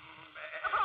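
A voice mimics a sheep's bleat in a comic Italian-American sketch, a short wavering nasal baa that rises in strength toward the end.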